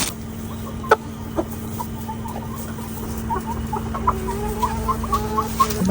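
Chickens cluck and chirp in short bursts over a steady background hum, with a few sharper peeps mixed in.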